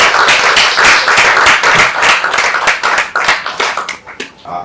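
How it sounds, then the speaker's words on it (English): An audience claps loudly at a health app launch. The dense, rapid applause is close and full, then thins into scattered claps as it fades toward the end. "Another round of applause"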